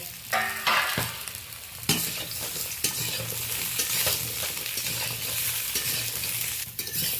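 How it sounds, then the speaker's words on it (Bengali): Ridge gourd stir-fried in a little oil in a wok gives a steady close sizzle, broken by a few scraping stirs and spatula knocks against the pan. "ওই তেলেই আমি ঝিঙেটা হালকা করে নেড়ে নেব।"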